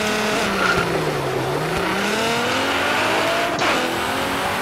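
A Nissan GT-R launches at a drag race with a loud, sustained engine roar, its pitch dipping and rising as the car pulls hard away, with a brief tire chirp near the end.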